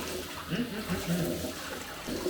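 Hot water pours steadily over honey in a vessel for mead, a soft continuous splashing and gurgling stream heard close up for a couple of seconds.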